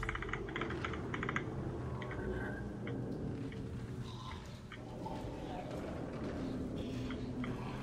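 Computer keyboard keys, arrow keys among them, tapped in quick irregular clicks during the horror game Dead Space, sitting under steady game ambience and a talking voice.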